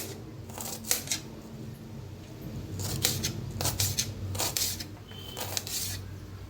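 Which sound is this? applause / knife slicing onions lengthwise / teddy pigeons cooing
knife slicing onions lengthwise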